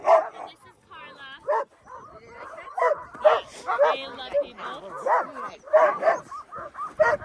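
German Shepherd and Alaskan Husky mix dogs on an Alaskan trip near Juneau yip, bark and whimper in repeated close bursts, with people talking over and between the calls.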